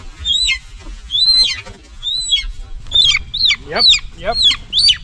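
Homestead birds squawk and chirp in a string of sharp, repeated calls close by, with someone briefly speaking amid low background noise.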